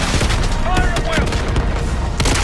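Dense gunfire from a Call of Duty Black Ops 6 cutscene, loud continuous volleys and booms with shouted voices mixed through the battle.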